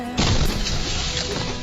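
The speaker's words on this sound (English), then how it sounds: "But then I hit the wall. Crash, boom, bang." A car slamming into a wall in a driving crash: a sudden loud smashing impact followed by a brief rough crunching, scraping rumble that fades slightly.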